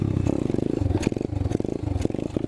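Apollo 125cc dirt bike engine revving hard during a long wheelie, a loud, close, pulsing four-stroke drone with rapid firing rhythm and throttle surges.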